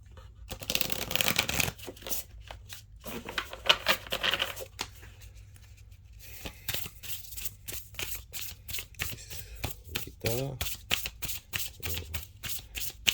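Astro tarot cards being shuffled by hand, a steady run of crisp riffling snaps and papery slaps that comes in bursts with short pauses, close and fairly quiet, with no talking.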